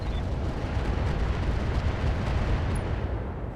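Mech artillery hitting a target in the video game RogueTech, a loud, continuous roaring rumble of blasts that stays steady throughout with only a slight fade at the end.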